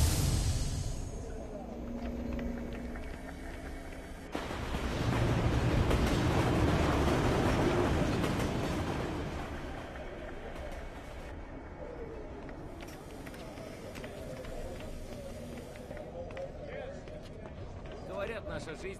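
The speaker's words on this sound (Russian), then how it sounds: "Поезд номер 1, следующий от главного холла до административного сектора," A train pulls into a platform in the video game Afterfall Insanity, with a loud rumbling surge around the middle that settles into a steady rail roll, while a station announcement voice speaks over it.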